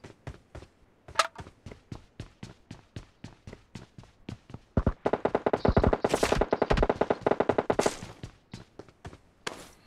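Repeated sharp gunshots in PUBG Mobile, sniper fire mixed with bursts of automatic shots, loud and close, with a dense rapid volley in the middle and single cracks before and after.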